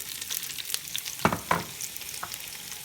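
Big pieces of Vidalia onion sautéing in olive oil in a crock pot insert make a continuous close sizzle, broken by two distinct knocks from stirring.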